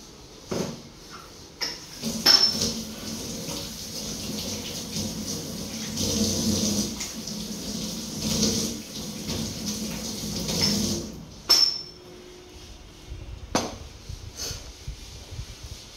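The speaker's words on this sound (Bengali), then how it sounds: "এখন হাতটা আমি ধুয়ে আসি।" Tap water runs and splashes in a sink while hands are rinsed at home, with bursts of flow, light clatter and short knocks over about sixteen seconds, moderately close and without talk.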